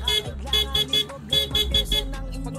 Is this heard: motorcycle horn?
yes